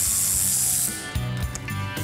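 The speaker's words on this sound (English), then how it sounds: "that's where you run your socket through to take the five nuts off that hold the axle in place" Ratchet and socket working through the access hole to remove the five axle nuts on a 1971 Plymouth Cuda 340; a continuous close ratcheting whir at first, then several shorter clicking bursts.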